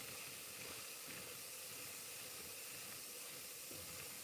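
An airbrush sprays paint in a steady, soft, continuous hiss, faint and close, without pauses or voices.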